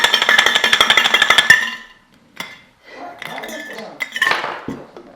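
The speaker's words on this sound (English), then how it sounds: "I was just trying to put some ice in here for you" Ice goes into a glass in a kitchen: a rapid run of bright clinks and rattles for the first second and a half, then scattered knocks and clatter, close and loud, with a voice speaking briefly.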